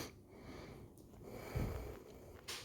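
Sniffling from a congested person, a few quiet nasal sniffs and snorts in a small room, faint and close with a brief louder burst near the end.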